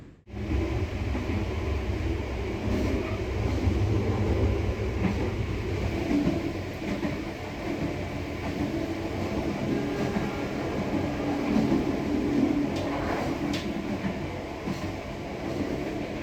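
Passenger train running from Surabaya toward Yogyakarta during the busy Christmas and New Year holiday, heard from inside the carriage as a steady, continuous rumble and rail noise with faint clatter throughout.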